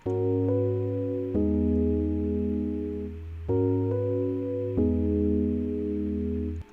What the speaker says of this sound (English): for this I'm just using an analog 4 Rhodes keyboard